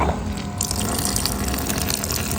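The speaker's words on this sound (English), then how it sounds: "running water" Water runs steadily from the tap of a camp water box, a continuous close splashing hiss with no pauses.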